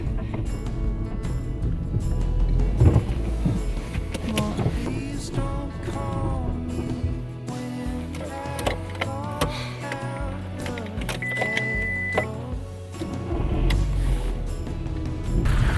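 A car driving on snowy winter roads: steady, close rumble of road and engine from inside the cabin, with whining tones drifting up and down throughout and no voices.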